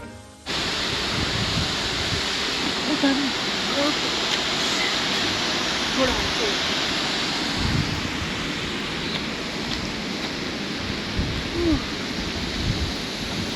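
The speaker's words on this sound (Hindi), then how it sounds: "वाटरफॉल का मधुर संगीत और सामने ये खूबसूरत नज़ारा" The Madhuganga waterfall near Kedarnath rushes as a steady, broad roar of falling water, loud and continuous after a brief start, with a voice faintly heard at times over it.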